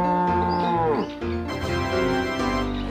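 A cow moos loudly in the Deer Simulator video game, one long drawn-out bellow followed by another, close and alone with no talk over it.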